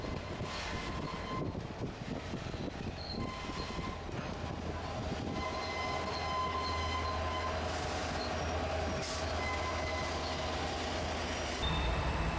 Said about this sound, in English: You do have to be able to endure the constant squealing as the cars go around the curve